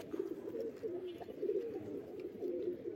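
Domestic pigeons, including a hen bird, coo softly and repeatedly in low rolling calls, close by, with no talk over them.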